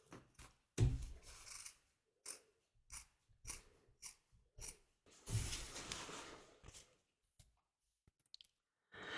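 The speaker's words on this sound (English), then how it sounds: "we're now going to cut around the edge of the stitch line, leaving 1/4 to 1/2 inch seam allowance all the way around" Scissors cutting fabric around a stitch line, a series of separate close snips and crunchy slices with short pauses between them, fairly quiet and with no talking.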